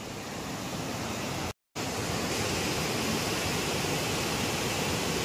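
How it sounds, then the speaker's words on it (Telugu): Devarapalli waterfall near Vizag in full flow, a loud, steady broadband roar of falling water close by that fills the whole clip, broken only by a brief dropout of silence early on. "అయ్యా వాటర్ ఫాల్ చూడండి"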